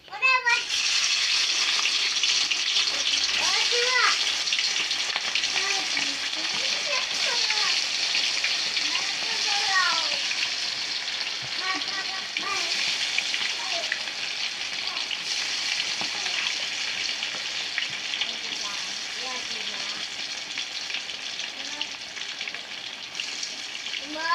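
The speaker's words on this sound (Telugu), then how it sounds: "ఆయిల్ వేడైందండి ఇంకా చికెన్ వేసుకుందాం" Chicken deep-frying in hot oil, a steady loud sizzle and crackle running throughout, with a voice speaking over parts of it.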